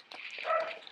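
A single short, slightly muffled dog bark, moderately loud and somewhat distant.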